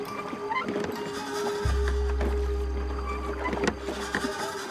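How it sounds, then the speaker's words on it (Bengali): A wooden rowboat creaks as an oar splashes through water on a Bengal village river, a steady low drone setting in partway through under scattered creaks and soft splashes, with no talking. "পেছন থেকে ভেসে এলো নৌকার কাঠের ক্যাচ ক্যাচ শব্দ, বৈঠার ছপছপ আওয়াজ"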